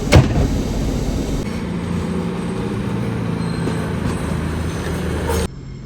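Riding a train in London, a steady loud rumble of the carriage with rattling, a brief bump at the start and the noise cutting off near the end.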